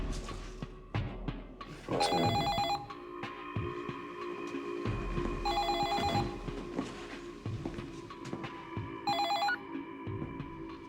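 A telephone rings in three separate bursts, loud and close, each a bright warbling electronic trill, with a steady hum and low throbbing background between rings.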